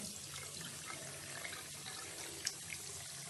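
Lukewarm tap water runs steadily into a sink for washing, a continuous close splashing hiss with a faint drip near the end and no talking.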